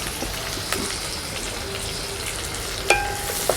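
Dried chilli and onion sizzle in hot oil with a steady crackling hiss, punctuated near the end by a couple of sharp clinks.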